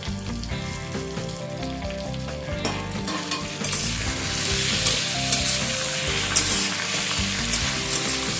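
Chopped tomato fried in spiced oil for chicken darbari, a loud, dense sizzle that thickens partway through with crackling spatters and stirring close by.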